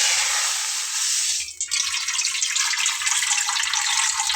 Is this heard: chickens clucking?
no